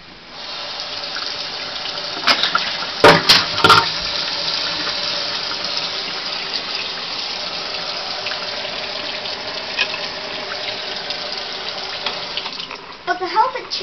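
Cold water runs from a tap into a sink to cool a color-changing Hot Wheels toy car, a steady, close rushing flow with a few brief knocks and clatters partway through.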